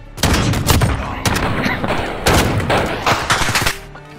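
Shotgun fire in a Call of Duty Modern Warfare gunfight match: a run of loud, close blasts in quick bursts with short gaps, then a brief lull near the end.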